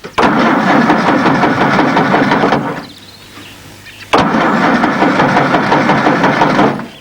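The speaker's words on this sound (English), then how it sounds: "Roberto, get in there and start up, huh?" An old car with a long-broken fuel gauge cranks loudly in a sustained burst, drops to a low idle-like lull, then cranks hard again, close by with no talk.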